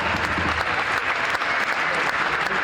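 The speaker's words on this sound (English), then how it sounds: "A big round of applause for James Yanari and Joel Allen." Steady crowd applause at a combat sports press conference, dense clapping filling the room evenly and loudly from start to finish with no voices over it.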